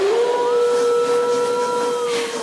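A steam train whistle on a ghost train ride, one long loud sustained multi-tone blast that holds steady and fades slightly at the end, heard alone without talk.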